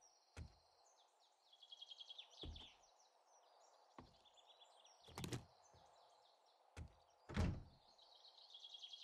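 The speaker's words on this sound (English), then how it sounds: "we want to close this door" A door closing in the survival video game 7 Days to Die makes several sharp, fairly loud thuds spaced a few seconds apart, over a constant backdrop of ambient bird chirping.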